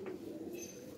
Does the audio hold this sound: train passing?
no